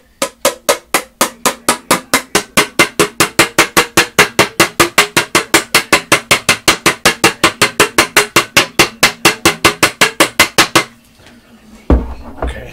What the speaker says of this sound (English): I was sealing up the stain can, so I do apologize for the noise